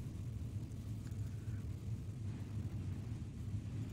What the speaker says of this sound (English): Let's get some better shots of these cars while we're going through the grid here. Well, them things are loud, ain't they?